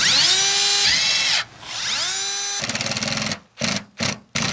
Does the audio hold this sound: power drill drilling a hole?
yes